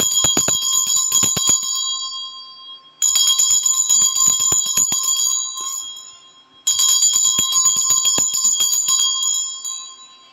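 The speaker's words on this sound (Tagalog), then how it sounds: "Bago ako mag-reading pala, gagamit ako ng Tibetan Bell." A Tibetan bell is struck repeatedly in three bursts, each strike ringing out with a bright metallic shimmer that decays before the next group, loud and close with no voices.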